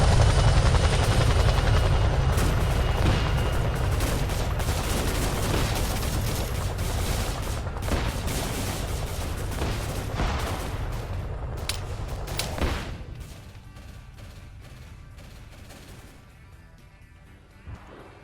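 A Chinook helicopter in a video game thrums loudly and steadily while rapid bursts of gunfire crackle around it, the rotor noise fading toward the end.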